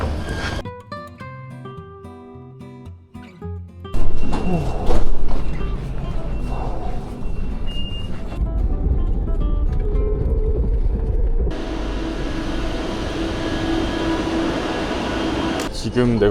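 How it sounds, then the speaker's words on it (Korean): A train rumbles into Central station in Kuala Lumpur, Malaysia, with a loud, steady low roar building under the bustle, as people chat nearby. "기차 바로 온다."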